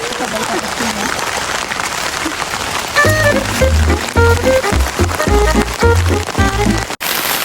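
Heavy rain drums steadily on an improvised shelter, a dense continuous hiss with loud low thumps and knocks in the second half while people talk nearby.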